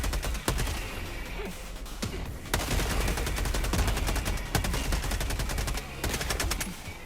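Rapid automatic gunfire and sharp single shots rattle continuously in the game Helldivers II, dense and loud with overlapping bursts throughout.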